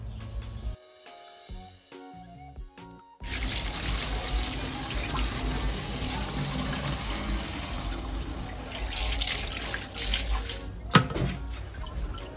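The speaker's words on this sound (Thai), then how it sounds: "น้ำไม่ต้องเต็มขวดนะครับประมาณนี้ก็พอ" Tap water pours into a plastic bottle while mixing a photosynthetic bacteria culture for a sugarcane farm, a steady broadband rush that starts after a few seconds of clinks and handling, then continues loudly for about nine seconds before stopping.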